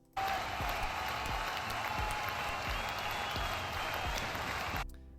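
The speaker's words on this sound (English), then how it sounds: "Can we get a round of applause?" A canned applause sound effect played during a livestream, a dense, even burst of clapping and light crowd noise that starts abruptly, holds steady for several seconds, then cuts off.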